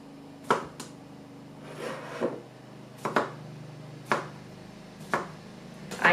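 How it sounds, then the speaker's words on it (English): A knife chops Muncher cucumbers on a cutting board for dill pickles, landing sharp, close cuts at a slow, uneven pace with a brief rubbing sound between strokes. "I will cut this on the board"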